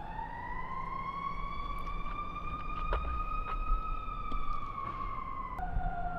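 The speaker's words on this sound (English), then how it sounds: "That siren just sent all the cows running." An emergency-vehicle siren wails outdoors near a UC Davis campus protest, a long rising-and-falling tone at moderate distance that drops in pitch near the end, with faint clicks and background noise.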